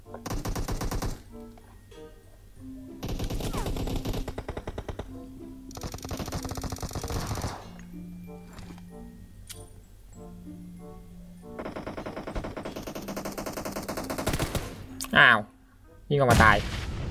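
Rapid bursts of machine gun fire in a PUBG Mobile death match, loud and sustained, alternating with quieter stretches of game sounds.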